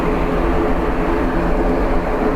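Steady loud roar of an airliner's engines at Dublin Airport, a broad continuous rumble with a faint tonal whine, sustained without pause and close enough to dominate, no voices.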